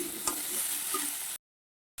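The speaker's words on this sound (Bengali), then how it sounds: "আলুগুলো পেঁয়াজের সঙ্গে ভালো করে ভাজতে থাকবো" Potatoes and onion fry in a pan with a steady, close sizzle, broken by a couple of brief stirring scrapes before the sound cuts out abruptly.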